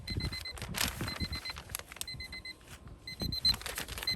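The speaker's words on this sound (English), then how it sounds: "That's the timer." A kitchen timer alarm goes off with repeated bursts of high electronic beeps in regular groups, sounding fairly faint against a busy background.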